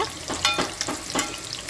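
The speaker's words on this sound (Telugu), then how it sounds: "గార్లిక్ కొంచెం మనం మంచిగా ఫ్రై అయ్యి మనకు ఒక గుడ్ స్మెల్ అనేది వస్తుంది" Garlic frying in a pan, a hissing sizzle with a few stirring scrapes, close and moderately loud.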